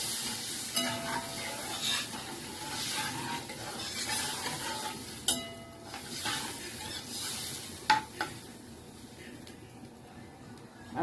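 Fish curry being stirred in a pan before water is added for the gravy, soft scraping strokes and occasional sharp clinks over a low sizzle, fairly quiet and close.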